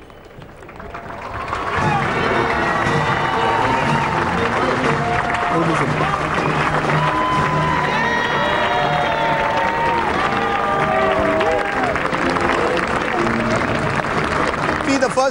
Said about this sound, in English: A lot of applause for the way she has conducted herself for the last 8 years now in the White House.